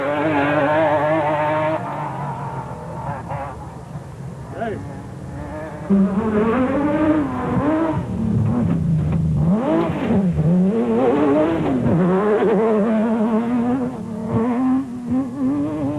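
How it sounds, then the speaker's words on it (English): A South African Nissan Hardbody rally truck racing in the 2004 Sun City 400 off-road event drones loudly, its engine revving up and down in pitch for the whole stretch. "Krobler and Leek were on a charge in the proudly South African Nissan hardbody"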